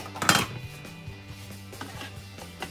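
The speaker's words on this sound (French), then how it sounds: "Et on va vider le bol." A food processor bowl of zucchini is emptied, with one sharp clatter of plastic and utensils near the start, then soft scraping and tapping as the contents are knocked out.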